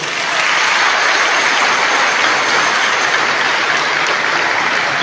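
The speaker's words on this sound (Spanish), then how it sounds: "Gracias a los que se conectan a través de nuestras redes, a quienes queremos también brindar otros aplausos." Congregation applauding at a Catholic Mass, a dense sustained wash of many hands clapping together, loud and steady for the whole stretch.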